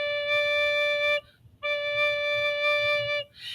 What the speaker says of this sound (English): So the low D sounds like this.